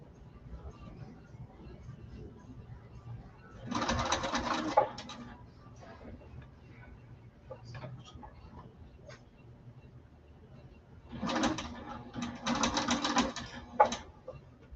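Sewing machine stitching fabric while assembling a bag with an internal pocket, two bursts of rapid mechanical whirring a few seconds each, separated by quieter handling and faint room noise.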